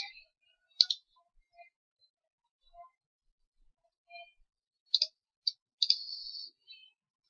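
Sparse mouse clicks at a computer desk, single and paired taps scattered across quiet stretches, close and faint, with a short burst of rapid clicking near the end.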